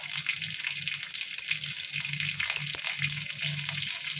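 Mustard and fennel seeds tempering in hot oil for pori upma, a steady bright crackling sizzle with a faint rhythmic low hum underneath, close and continuous.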